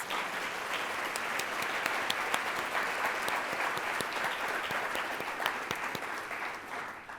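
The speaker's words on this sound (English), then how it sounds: "Let's give them a huge round of applause." Sustained applause from an audience, steady dense clapping throughout with no one speaking over it.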